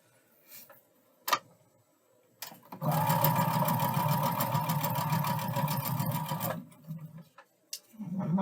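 A sewing machine stitches quilt fabric pieces together in one fast, continuous burst of rapid mechanical clatter lasting several seconds, framed by a few soft handling clicks and thumps before and after, close and with no voices.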